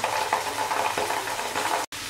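Ginger and garlic paste fry in a pan for a pea and cauliflower dish, a close, constant sizzle with soft stirring scrapes, cut by a sudden brief silence near the end.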